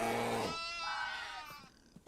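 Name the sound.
sheep bleating in a video game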